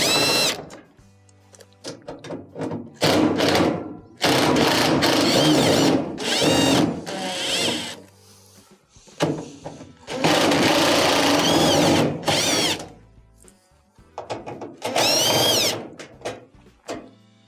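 A power drill backs Phillips screws out of the front panel of a GE dryer in repeated whirring bursts of one to two seconds each, separated by quiet gaps and small clicks, heard close and without speech.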